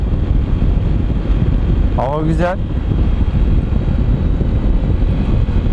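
Steady wind rumbles and buffets the microphone throughout on a lakeside motorcycle ride on a Honda CB125F, with a brief spoken phrase in the middle.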